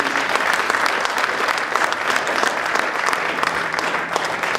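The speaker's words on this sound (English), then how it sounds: "give them a big round of applause for the tape" Sustained audience applause at an awards celebration, a dense, steady wash of many hands clapping at fairly loud level for the whole stretch, with no voices on top.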